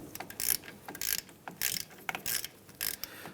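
A ratchet tightens suspension knuckle bolts on a 2007-2015 Mazda CX-9, clicking close up in quick rapid bursts with short pauses between strokes.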